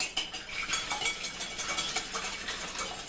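Eggs being whisked in a bowl, giving a steady run of quick, light clinking and scraping strokes at close range with no talking.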